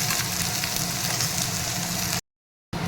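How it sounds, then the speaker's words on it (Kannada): Ginger, garlic and green chillies frying in oil in a pan on a low flame, a steady close hiss and sizzle that stops briefly near the end. "ಶುಂಠಿ, ಬೆಳ್ಳುಳ್ಳಿ ಮತ್ತು ಹಸಿಮೆಣ್ಸಿನ್ಕಾಯಿ ಹಾಕಿ ಸ್ವಲ್ಪ ಹಸಿ ವಾಸನೆ ಹೋಗೋ ತನಕ ನಾನು ಇದನ್ನು ಫ್ರೈ ಮಾಡ್ಕೊಂಡಿದ್ದೀನಿ"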